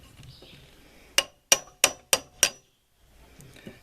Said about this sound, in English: now you have to use the chisel to cut the wood fiber